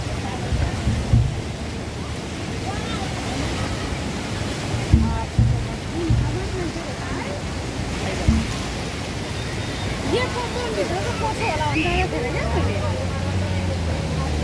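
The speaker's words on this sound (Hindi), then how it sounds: "हेरेर पानी थोरै छ यहाँसम्म।" Floodwater rushes steadily through a flooded settlement in Kathmandu, a continuous broad roar with a few louder surges, while voices are heard faintly under the flow.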